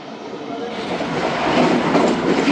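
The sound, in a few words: Khyber Mail passenger train running on the rails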